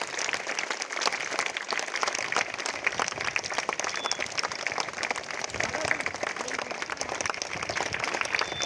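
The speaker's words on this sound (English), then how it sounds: "Don't stop your claps." Audience clapping for school kabaddi players at a medal presentation, a sustained, dense wash of many hands clapping at even loudness from start to finish.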